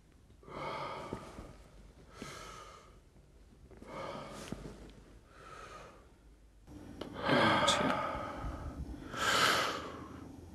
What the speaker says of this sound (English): Deep breaths in and out.